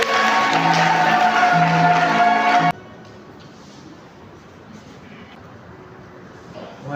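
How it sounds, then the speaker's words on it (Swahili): A church audience applauds a Catholic bishop, a loud, dense burst of clapping and cheering that cuts off abruptly after about three seconds, leaving a quiet room with faint murmurs. "Makofi kwake."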